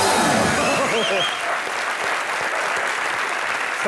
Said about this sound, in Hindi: एक बार जोरदार तालियां सुपरस्टार अक्षय कुमार